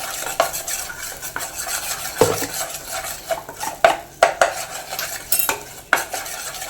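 Roasted gram flour being stirred with asafoetida in a metal pan, with repeated scraping and clinking of a spoon against the pan over a soft dry sizzle, close and steady.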